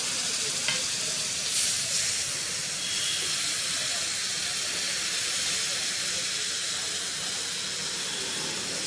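Tadka sizzles loudly into pav bhaji on a hot pan at a Patna street food stall, a dense continuous frying hiss with stirring and street noise beneath.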